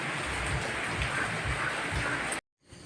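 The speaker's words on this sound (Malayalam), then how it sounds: "തോർന്നൊക്കെ വരുന്നുണ്ട് നമ്മുടെ മഴ" Steady light rain patters on surfaces as a shower eases off, a soft continuous hiss that cuts off abruptly near the end.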